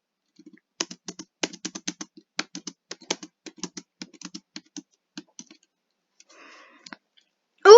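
Rapid keystrokes on a computer keyboard, close and crisp, come in an irregular stream of clicks that slows and thins out toward the end, with no talking, before a sudden louder burst right at the close.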